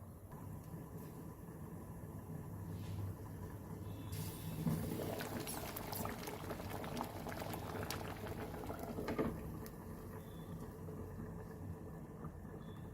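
A Goan drumstick curry simmers in a covered pot, giving a faint, soft bubbling and patter that swells into busier popping and spitting midway before settling back to a quiet burble.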